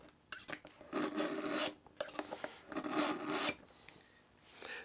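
A knife blade drawn repeatedly through a Smith's 2 Step sharpener under firm pressure, giving several distinct rasping strokes with brief pauses between them, close and clear with no talking.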